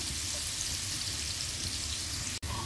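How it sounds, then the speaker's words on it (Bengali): Potato pieces frying in oil seasoned with salt and turmeric in a pan, giving a steady, dense sizzle that runs close and even throughout, broken only by one brief dropout near the end. "তো চলো এইভাবে আলুগুলোকে ভেজে নিই।"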